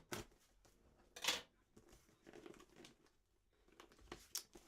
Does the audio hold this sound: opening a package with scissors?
yes